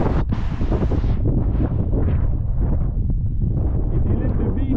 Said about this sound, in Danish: Et lille bevis på dagens blæsevejr på Kongetoppen